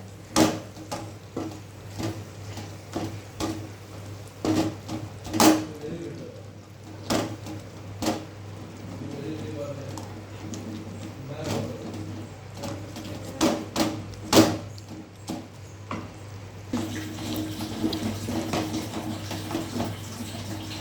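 A wooden masher thumps and scrapes through cooked ridge gourd and tomato in a pot, making irregular soft knocks and squelches at a slow uneven rhythm, close by with no talk.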